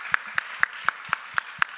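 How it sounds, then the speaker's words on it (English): Seven sharp hand claps at a steady, even pace, crisp and close, with a faint hiss between them and no voices. "Let's give them a round of applause."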